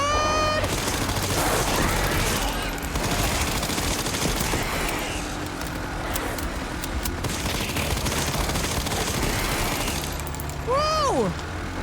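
Gunfire in a shooting video game: dense, continuous rattling bursts of automatic fire and booms fill the scene loudly from start to finish, with electronic whooshing game effects near the end.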